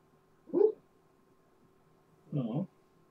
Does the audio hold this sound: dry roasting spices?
no